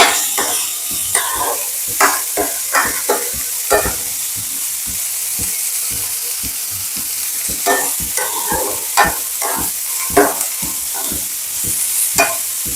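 Vegetables stir-fried in a pan for Yippee noodles, loud close sizzling broken by rhythmic scrapes and knocks of a spatula against the pan, repeating steadily throughout.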